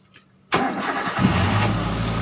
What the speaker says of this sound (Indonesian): Setelah itu kita akan coba cek nyalakan mesinnya.